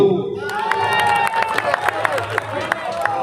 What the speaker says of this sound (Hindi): ताली हो जाऊ